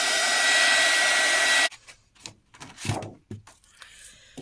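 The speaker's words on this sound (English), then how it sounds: "I'm just going to give it a quick dry with the heat gun" Heat gun blowing a steady, loud airflow to dry ink on card, running continuously for about a second and a half before cutting off, followed by light handling and rustling sounds.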